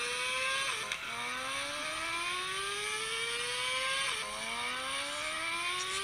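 A motorcycle engine revs on a city street, its pitch climbing steadily in two long pulls, each broken by a brief dip at a gear change. It is loud and close, with no talking.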